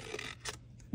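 Scissors snip and rasp through paper petals for a round paper flower, a few quiet scraping cuts close by, ending in a soft thump, with no talking.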